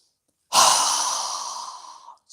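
One strong yoga exhale pushed through a wide-open mouth, a loud, close, breathy rush that starts abruptly and fades over about a second and a half, followed by the brief start of another breath.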